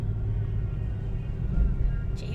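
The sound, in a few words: inside a moving car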